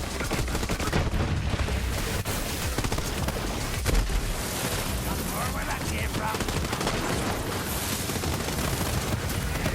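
Dense, continuous gunfire from weapons in Borderlands 3, with rapid overlapping bursts and booms filling the whole stretch at steady loudness.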